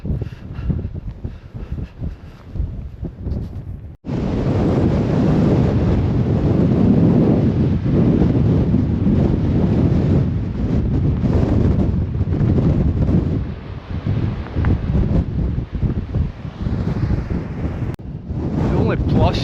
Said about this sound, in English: the wind's been in my back the whole way up